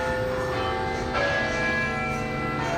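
Bells ringing out at the end of the It's A Small World Adventure ride at Winter Wonderland in Hyde Park, a steady, loud chiming peal that continues throughout with no talking.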